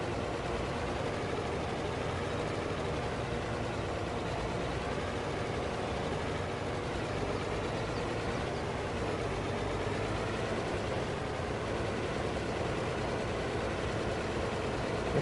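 A tractor engine in the Farm Sim farming video game runs with a steady, dense rumble that holds at an even level for the whole stretch, with no voices over it.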